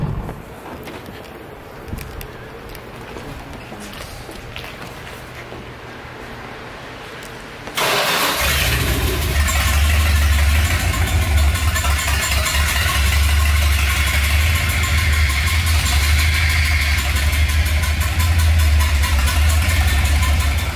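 A 1978 Dodge Power Wagon truck engine cranks and starts after a quiet stretch, then settles into a loud, deep, steady rumble that runs on without voices.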